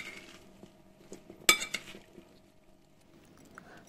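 Teriyaki salad is tossed with its sauce in a dish. Quiet, scattered utensil clinks sound against the bowl, with one sharper knock partway through.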